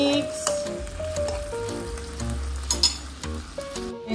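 A pan of escabeche sauce for tilapia bubbles and sizzles steadily, with a few light clinks of a utensil, close up and continuous.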